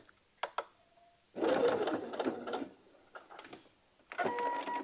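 A sewing machine makes a short backstitch on a blouse while finishing a seam, with a few clicks at first, then a rattling burst of stitching, a pause, and a final quick run.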